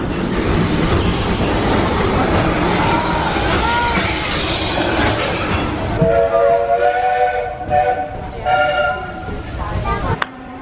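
A theme park railroad train at Disneyland Paris rumbles past with a steady mechanical clatter and hiss, then a tonal horn or whistle sounds repeatedly near the end over crowd noise.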